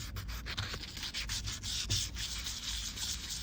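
Rhythmic wet-sanding strokes rubbing back and forth on a maple guitar fretboard, taking off finish, close up, steady and scratchy with no voices.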